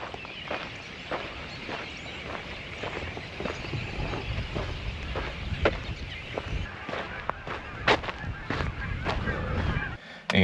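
Geese honk in the woods, a run of repeated calls at an irregular rhythm, fairly close, mixed with footsteps crunching along a walking path.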